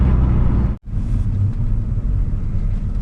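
Lexus IS300 engine held at high RPM in fourth gear, a loud steady low rumble that drops out briefly near the start, then continues unbroken.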